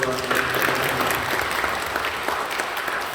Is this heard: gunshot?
no